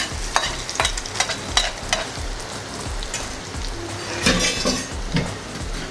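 A utensil stirs fried mustard seeds and coconut bits into kappa biriyani in a pan, making rhythmic scraping knocks over a soft, steady sizzle.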